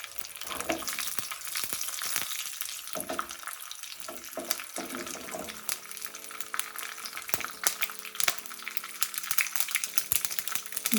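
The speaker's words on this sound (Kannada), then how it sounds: "ಒಂದು ಸ್ಪೂನ್ ಎಣ್ಣೆ ಹಾಕಿ ಅರ್ಧ ಚಮಚ ಸಾಸಿವೆ ಮೂರ್ನಾಲ್ಕು ಒಣ ಮೆಣಸಿನ್ಕಾಯಿ ಹಾಕ್ಕೊಂಡು" Mustard seeds and dry red chillies fry in a spoon of hot oil in a pan on the stove, a continuous crackling sizzle with sharp pops and spits throughout, with no speech.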